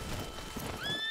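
A horse in Red Dead Redemption 2 gives a brief whinny with a few clip-clop hoofbeats, fairly quiet and close, with no talking over it.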